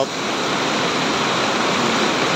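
Floodwater pours in near a pumping station, a loud, steady, unbroken rush of water filling the whole scene with no pauses.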